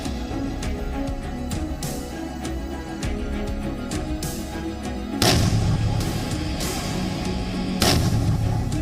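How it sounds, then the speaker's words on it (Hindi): Hand grenade blasts on the far side of a wall, heard as loud booming detonations over a rumbling, noisy background, with sharper bursts around the middle and near the end. "ये दीवार के उस साइड गिरा और एक धमाके के साथ फट गया।"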